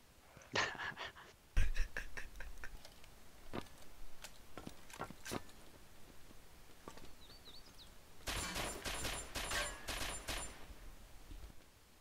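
Sharp gunshots in the military game Arma 2, scattered single cracks at first, then a dense rapid volley near the end, with quiet gaps between.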